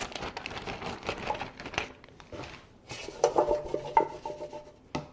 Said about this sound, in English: And then I'm going to add in all of these potatoes.